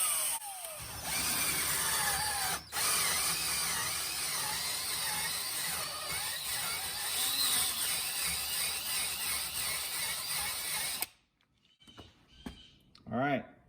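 A power tool with a short shank runs in and out of a rusty lower control arm bushing bore on a Jeep XJ Cherokee, scouring out rust and leftover old bushing in a loud, steady whir for about eleven seconds before cutting off into quiet handling noises.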